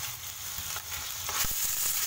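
Tuna searing in table oil in a pan: a steady, close sizzle and crackle with a few sharper pops and faint stirring, and no talking.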